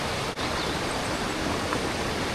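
Rushing water of Pinamun-an Falls in Nagcarlan, Laguna pours in a dense, steady roar over mossy rocks, loud and close, with only a brief dip early on.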